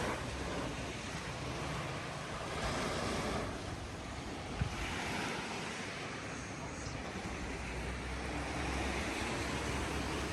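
Sea waves washing onto a beach, a broad steady surf wash with wind noise on the microphone, fairly distant and continuous throughout.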